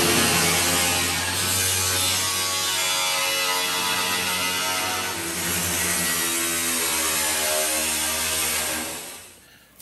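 A 4.5-inch angle grinder slices through the sheet-metal bed of a Chevy C10 pickup, giving a loud, steady, high-pitched whine that holds for nearly ten seconds before cutting off.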